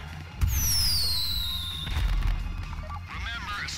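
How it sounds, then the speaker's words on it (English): Fireworks go off in the video game Grand Theft Auto V, with a sharp bang followed by descending whistles and crackling bursts against a steady background rumble while people talk over it. "Fireworks."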